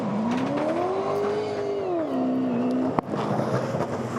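A Supercars race car's engine revs hard during a practice start at the Sydney SuperNight event, its loud pitch rising, holding, then dipping. A sharp bang cuts in near the end, and rough engine noise follows.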